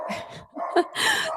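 A dog indoors gives a quick run of close, loud barks and yips, one short burst after another with brief gaps between them.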